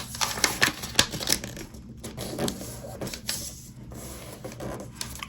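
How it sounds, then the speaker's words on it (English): Origami paper being folded and creased corner to corner, then unfolded and rotated, with close, crisp crackles, rubs and taps coming in uneven bursts and short pauses between them. "Unfold, rotate, and repeat, folding from corner to corner."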